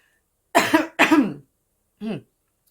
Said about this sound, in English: I will probably be coughing like way too much.